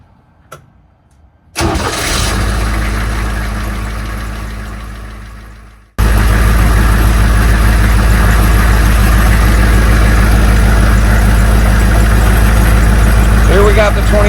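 A HMMWV M1097 Humvee diesel engine cranks over and then settles into a loud, steady run close by, with its generator spinning and charging the batteries; the engine drone continues unbroken to the end.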